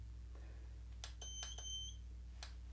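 Two short electronic beeps from a device, clear and close, against a steady low hum, with a third faint beep shortly after.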